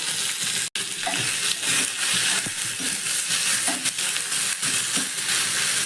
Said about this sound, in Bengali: ভালো করে একটু নাড়াচাড়া করে দেব।